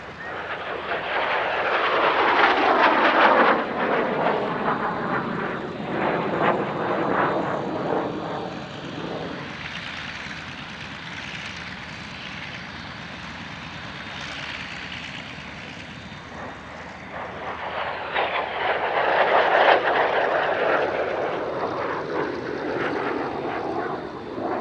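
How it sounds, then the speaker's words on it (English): A LIM-2, the Polish license-built MiG-15bis jet with a Russian copy of the Rolls-Royce Nene engine, passes at an airshow, its roar swelling near, easing off as it recedes mid-pass, then building loud again before fading. "Fundasza Escadra's LIM-2, the Polish license-built version of the MiG-15 bis"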